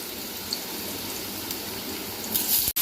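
Potatoes hit hot oil in a pan for Bengali aloo bhaja with poppy seeds, making a steady close hiss and crackle that swells briefly near the end.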